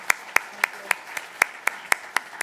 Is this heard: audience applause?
yes